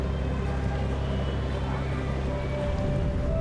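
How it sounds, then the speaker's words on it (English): Low, steady drone of tuna fishing boat engines on the island of Iki, Japan, a continuous rumbling hum with wind and water in the background and no voices. "At any other time of the day, the sound of nature is punctuated only by the occasional hum of boat engines."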